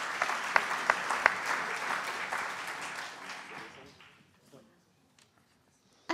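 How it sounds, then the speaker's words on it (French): Audience applause at a round-table discussion, thanking a panelist named Patrick: dense clapping that builds briefly, then thins out and fades to near silence. "Merci, on peut l'applaudir."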